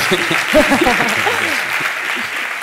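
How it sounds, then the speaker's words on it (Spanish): Steady applause from a conference audience, a continuous patter of many hands clapping, with a voice speaking briefly underneath. "Tenemos 6 segundos para aplausos, si queréis."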